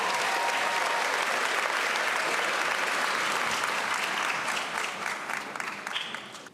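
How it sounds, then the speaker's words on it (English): Audience applause honoring middle school students at an awards ceremony, steady dense clapping from a large crowd that holds throughout and thins slightly near the end. "All right, let's give our middle schoolers another round of applause."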